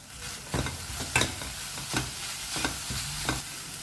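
Cardamom powder stirred into panchkhadya, a sweet Goan Ganesh Chaturthi mixture, in a pan: a faint sizzle with several distinct scraping spoon strokes against the pan, close and irregular, no voices.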